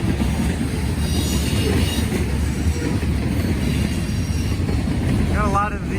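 A Burlington Northern Santa Fe freight train rolls past in Muncie with a steady, loud rumble of wagons and wheels, a brief wheel squeal near the end.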